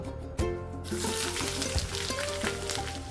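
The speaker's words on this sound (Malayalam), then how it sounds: "ഒരു ലോ ടു മീഡിയം ഫ്ലെയിമിൽ നന്നായിട്ടൊന്ന് വഴറ്റിയെടുക്കാം" Shallots sauté in hot coconut oil over low to medium flame, and a loud sizzle swells up after a brief quieter start. Occasional stirring scrapes sound through the crackle.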